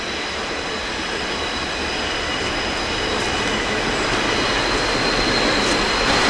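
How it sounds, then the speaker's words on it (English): A train rumbles past close by, a steady heavy roar of wheels on rails with faint metallic squeal throughout. "That train's pretty close."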